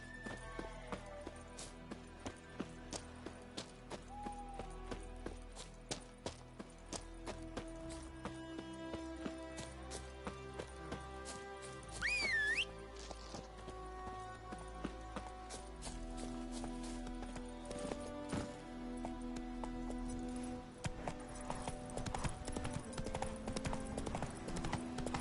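Roach, the horse in The Witcher 3 video game, gallops with rapid, rhythmic clip-clop hoofbeats that run continuously beneath layered game music.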